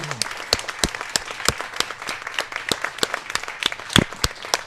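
Audience applause at a 2022 Cherry Blossom finals event, a steady stream of many hands clapping with sharp individual claps standing out near and far, continuous throughout.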